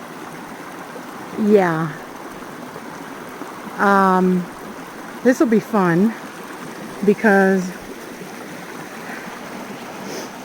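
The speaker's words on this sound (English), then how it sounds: "this river of snowmelt is actually my trail" Snowmelt river water rushes steadily along a desert trail near Las Vegas, a constant wash of noise beneath a person's intermittent talking.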